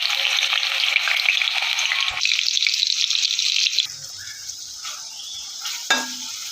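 Onions dropped into hot oil, a loud bright sizzle that drops sharply to a quieter hiss, with a clank of utensils near the end and no talking.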